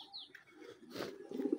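Pigeons on a pigeon farm coo softly in a short, quiet burst, with a faint chirp early on and low throaty calls building toward the end, close by.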